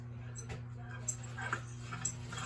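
A dog in a garage whimpers and yips softly a few times over a steady electrical hum, fairly quiet and close.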